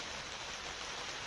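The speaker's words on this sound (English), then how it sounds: "you can hear it pouring down rain" Heavy rain pouring down outdoors on a morning of maple sap collecting, a dense, unbroken hiss that stays constant and fills the short moment.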